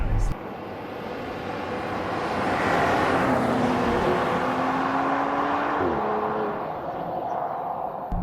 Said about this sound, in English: once the torque kicks in, which is very quickly, it just pulls and pulls and pulls through every gear